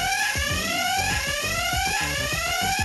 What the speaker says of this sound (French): si on passe devant, l'alarme retentit